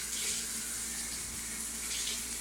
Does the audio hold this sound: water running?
yes